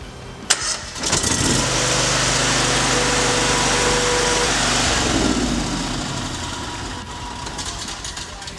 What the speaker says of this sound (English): It was a gasoline generator. It's freaking noisy. It's enormously noisy.